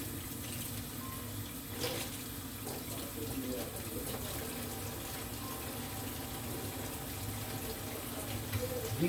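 Tap water runs steadily into a kitchen sink while bell peppers are rinsed and their seeds washed out, a continuous close splashing flow.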